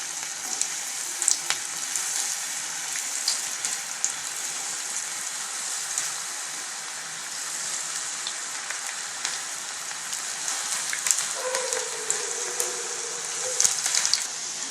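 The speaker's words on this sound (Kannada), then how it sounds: "ಈ ಥರ ಡೀಪ್ ಫ್ರೈ ಮಾಡ್ಕೋಬೇಕು ಗೋಬಿನ" Cauliflower pieces coated in gobi batter deep frying in hot oil give a steady, dense sizzle that runs the whole time, with scattered sharp pops and bubbling and no voices.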